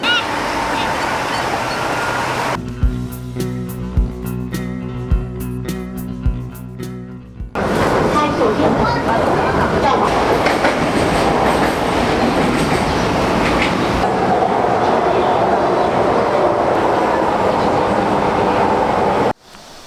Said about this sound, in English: jump on a train back to Jiading Xincheng and get back onto the second branch out to Huaqiao